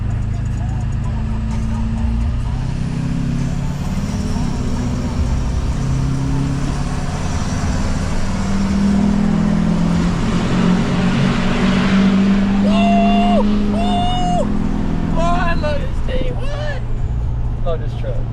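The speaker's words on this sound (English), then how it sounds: "I love diesels. You're about to hear why." A diesel work truck from a landscaping job drives at length with a loud, deep, steady engine drone that rises and shifts through gear changes, while a few higher squeals and clatters come in near the end.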